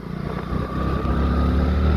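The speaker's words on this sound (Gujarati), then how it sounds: "ચાલો હવે આગળ બાઇકને થોડીક ભગાવી." A motorcycle speeds up along a road, its engine drone rising steadily under buffeting wind noise, with no voices.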